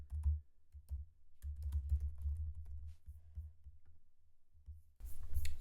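A name is typed on a computer keyboard in quick irregular keystroke clusters with soft low thumps, a short pause near the middle and a louder burst of clicks at the end.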